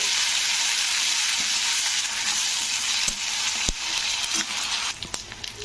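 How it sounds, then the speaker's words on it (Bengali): Ginger garlic paste fries in a pan for a matar paneer curry, giving a loud, continuous sizzle with occasional scraping and knocking from stirring, easing off slightly toward the end. "তো এরপরে আমি দিয়ে দেবো আদা রসুনের পেস্ট দু চামচ তো আদা রসুনের পেস্টটাকে নাড়তে হবে"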